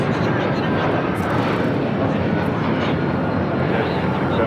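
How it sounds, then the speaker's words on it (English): A United Airlines jet at LAX roars steadily as it passes, a loud, continuous engine rumble and hiss filling the whole stretch, with people talking faintly underneath. "That's a flight heading to Newark, United Airlines flight 1331"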